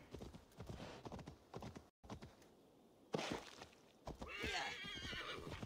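A horse gallops in the video game Assassin's Creed Valhalla, its hooves clopping in rapid rhythm with a neigh, a short silent gap breaking the hoofbeats before they resume at a fast, close pace.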